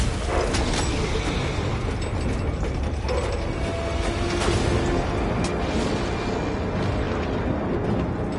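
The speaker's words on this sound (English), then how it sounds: "The crane has finished moving the pallet." A crane moves a pallet in Warhammer 40k Space Marine 2, a continuous mechanical ratcheting and grinding of gears and pulleys, loud and steady with occasional metallic clanks.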